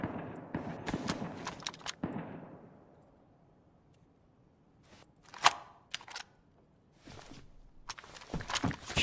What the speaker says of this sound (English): There's gunshots. That's quite obvious now.